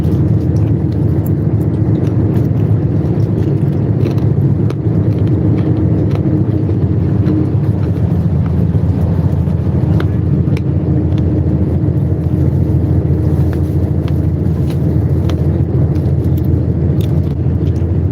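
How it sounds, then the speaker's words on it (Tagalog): Steady low rumble of a bus cruising along a highway from Taichung to Taipei, Taiwan, with constant engine and road noise and faint rattles inside the cabin, no voices. "Live stream po ito from Taichung to Taipei by bus."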